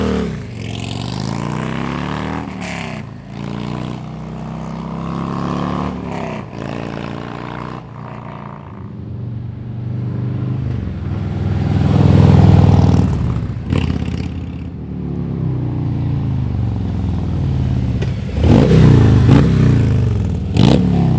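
Harley-Davidson Road Glide Special fitted with a Cobra Neighbor Hater exhaust on a stock head pipe, a loud, deep motorcycle engine rumbling and revving nearby, swelling and dropping over about twenty seconds.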